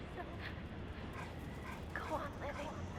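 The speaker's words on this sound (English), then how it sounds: "I made some cool dog friends." Dogs in the video game Metal Gear Solid 4, faint yips and whimpering barks in a noisy game soundscape with low rumble, moderately distant.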